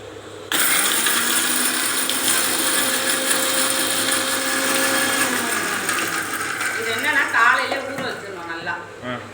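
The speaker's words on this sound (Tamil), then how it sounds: "நல்லா ஊற வச்சு நைஸாக அரைச்சிக்கணும்" A kitchen mixer grinder starts abruptly and runs loud and steady, grinding soaked rice, chana dal, fennel, cumin, green chili, garlic and ginger into a fine batter. Its whine shifts near the end, and a voice speaks over it.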